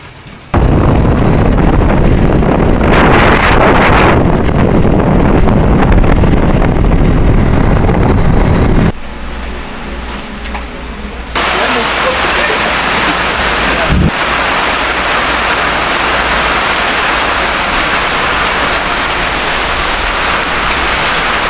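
Strong typhoon wind roaring and buffeting the microphone outdoors, a loud continuous rumble that cuts out briefly, then returns with heavy rain noise.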